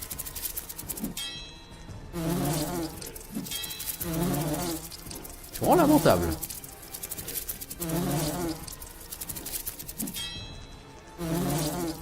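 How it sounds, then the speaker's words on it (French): Wasps buzz in the fantasy role-playing video game Lords of Xulima, their droning pulses rising and falling in repeated bursts while someone speaks briefly over them. "le blizzard en 2 ne les tue même pas les guêpes."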